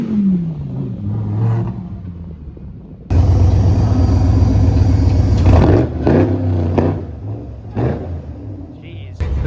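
A supercar convoy arrives, Ferraris following a Lamborghini Urus: a loud engine roar bursts in and holds, with revving swells and passing surges close by, while someone talks over the early part.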